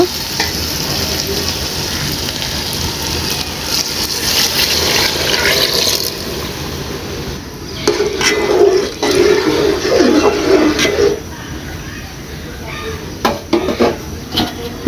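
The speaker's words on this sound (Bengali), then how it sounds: "তো এখন আমি এখানে পানি অ্যাড করে দিব" Water gushes into a hot pot of khichuri on a village stove, a loud sustained hiss and sizzle that churns for several seconds before settling into a bubbling simmer, with no talk over it.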